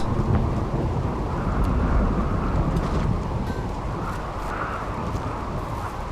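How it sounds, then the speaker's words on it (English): A rainy thunderstorm in the Rimworld video game, a steady dense wash of rain with a deep low rumble beneath it that stays loud and even throughout, with no voices. "Rainy thunderstorm."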